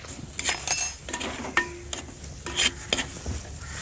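Chili, ginger, garlic, onions and curry leaves are stirred in a frying pan, with scraping utensil strokes and light clinks over a soft sizzle in a Southern Indian kitchen.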